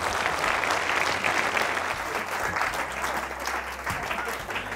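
A conference audience applauds steadily and loudly for several seconds, many hands clapping together in a dense, even roar with a faint low hum underneath.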